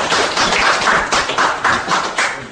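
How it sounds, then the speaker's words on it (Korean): An audience at a panel discussion forum applauds in a short burst of close, brisk clapping with a rhythmic pulse, lasting a couple of seconds without any speech. "그럼 박수 한번 주시죠."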